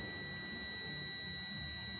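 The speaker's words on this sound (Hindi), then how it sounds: "यहाँ बीप कर रही है" A multimeter gives a steady, continuous continuity beep as a probe touches a pin while an ECM wiring circuit is traced; the tone is high and unbroken and stands alone, with no talk.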